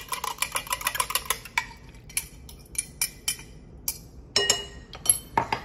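A single egg is added to a bowl and whisked: quick clinking taps of a utensil against the bowl, first in a fast burst, then in slower scattered knocks, close and fairly quiet, without speech.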